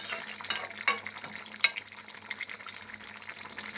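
A spiced dish topped with garam masala is stirred lightly in a pan, giving wet scraping swishes and a low sizzle with a few sharper clinks, close and without talk.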